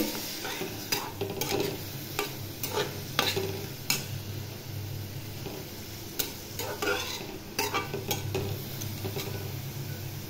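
Cashews and almonds fry gently in a pan for chutney, a soft sizzle broken by repeated scraping strokes of a spoon stirring the nuts, close and fairly quiet with no talk.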